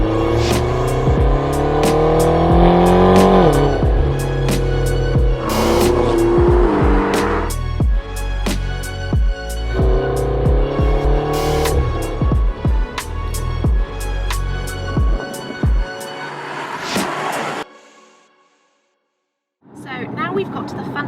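A McLaren GT with a twin-turbo V8 driving on the road, loud and close, its engine rising and falling through gear changes with a brief drop to near silence before it picks up again.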